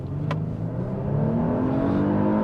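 A Genesis GV80 3.5T SUV at full throttle from a standstill, the turbocharged engine droning steadily and rising in pitch as it pulls, heard from inside the cabin.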